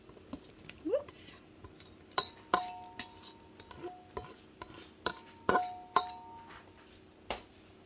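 A utensil stirs vegetables into Hawaiian chopped steak in a pan, with repeated clinks and scrapes against the pan in an irregular rhythm, close by, alongside faint kitchen noise.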